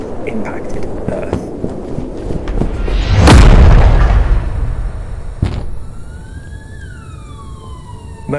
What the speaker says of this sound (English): after 3 heart-pounding minutes, Soyuz 1 finally impacted Earth